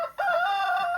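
Chickens in a backyard coop give one loud, drawn-out call close by, after a brief quieter moment at the start.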